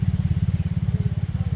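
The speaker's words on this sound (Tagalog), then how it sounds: "At tayo may motor na dumating oh." A motorcycle engine idles or putters close by with a steady, rapid low thumping pulse that holds through the whole moment, with no voices over it.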